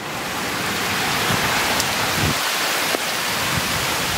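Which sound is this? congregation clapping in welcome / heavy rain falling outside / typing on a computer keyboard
heavy rain falling outside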